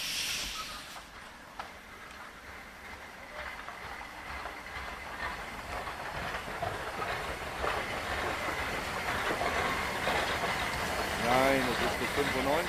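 A class 65 steam locomotive arrives at Sonneberg station on a winter morning with a steady rumbling, rattling wheel noise, moderately close, while people talk over it.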